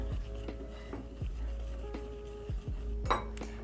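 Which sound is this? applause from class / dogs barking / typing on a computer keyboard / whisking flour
whisking flour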